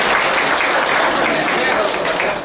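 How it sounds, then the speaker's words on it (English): Participants at a pyramid meditation session clap together, a brisk, steady round of applause that stays loud and even before thinning slightly at the end. "I have to give a big clap to all of you"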